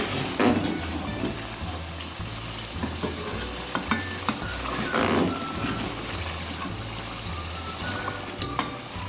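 Meat and tomatoes for chicken karahi fry in a pan with a steady, loud sizzle, broken by the scrape and clatter of stirring.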